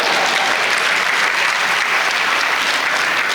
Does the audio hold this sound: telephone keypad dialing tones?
no